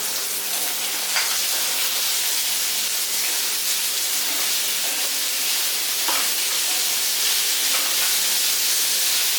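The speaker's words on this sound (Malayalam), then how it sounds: "അപ്പം ഇത് നമ്മൾ 2 ഉള്ളിയോളം അരിഞ്ഞിങ്ങനെ എടുത്തിട്ടുണ്ട്. അപ്പം അതും കൂടെ നമുക്ക് ഇതിനകത്ത് ചേർത്ത് വഴറ്റിയെടുക്കാം." Two chopped onions sautéing in a pan for onion curry give a steady, close sizzle and hiss throughout, with faint stirring touches and no talk.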